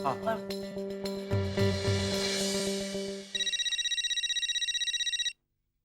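Musical tones play briefly, then a telephone ringtone trills in a rapid repeated electronic pulse, fairly faint, before cutting off.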